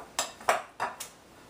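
Utensil mixing shortening into flour for a low-carb pie crust in a bowl, four quick scraping clinks against the dish in an uneven rhythm, close and moderately loud with no talking.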